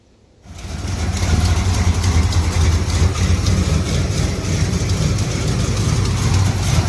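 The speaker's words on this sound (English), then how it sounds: "I decided to leave the truck in park and fire it up to see if our manifold reseal job worked out." A 1979 Dodge Power Wagon truck, parked after a manifold reseal, cranks and fires, then settles into a loud, steady, rumbling idle that continues unbroken after a brief silent start.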